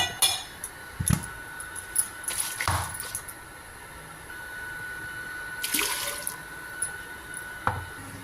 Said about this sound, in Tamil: மிக்ஸி ஜாரை கழுவி நல்லா ஒரு செம்பு தண்ணியை நல்லா அலசி ஊற்றிக்கலாம்